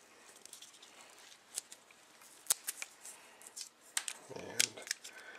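Adhesive tape peeled and unwound from the small container of a survival bracelet that holds a fire rod, heard as quiet, close crackling and ticking with several sharper snaps and a brief rustling burst near the end.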